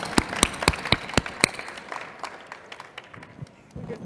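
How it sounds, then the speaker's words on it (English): A small audience at a talk on compassionate leadership applauds with distinct, sharp claps that start brisk and loud, then thin out to scattered, quieter claps over about four seconds. "can we give a proper round of applause to these three wonderful leaders?"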